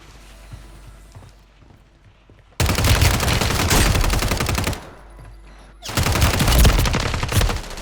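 Bursts of rapid gunfire in the shooter game Resurge, two loud sustained volleys of automatic fire separated by a quieter gap, close and punchy with no talk.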